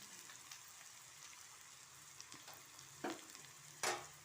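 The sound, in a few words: frying in a pan before adding salt and turmeric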